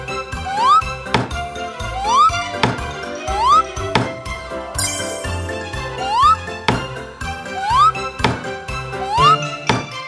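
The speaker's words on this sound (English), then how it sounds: "Nail the bed with a hammer." Nails are hammered into a wooden bed in a children's carpentry game, with sharp knocks landing at a steady beat, each one paired with a rising chime over light background music.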